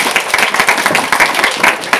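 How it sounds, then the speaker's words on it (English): An audience at an entrepreneurship talk claps in a short burst of dense, fairly loud applause lasting about two seconds, with no voices over it. "A clap for that,"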